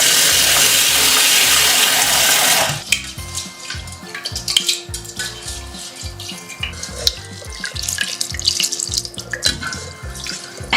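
Tap water runs hard into a kitchen sink while rice is rinsed, starting as a loud steady gush, then breaking into lighter splashing, swishing and clinking as the grains are stirred in a bowl under the stream.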